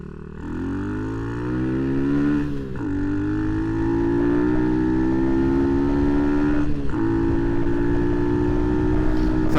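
A modified Honda C90 with a 170cc engine runs on the road, its note climbing steadily through the gears with two brief dips at the shifts before holding a steady drone.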